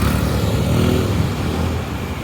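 Dense street traffic in Manila rumbles loudly and close, with cars and motorcycles engines droning and revving in a continuous wash of roadway noise.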